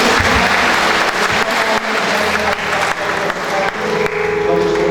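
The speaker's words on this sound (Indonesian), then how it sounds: "sekali lagi kita berikan tepuk tangan" Audience applause at a church worship service, a steady wash of clapping that stays loud for several seconds and dips briefly now and then, with some speech mixed faintly beneath.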